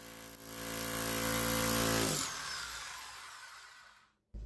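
A hammer drill with adjustable hammer speed runs loud and steady with a rough, buzzing whine, then winds down and fades out, followed by a brief sharp knock at the very end.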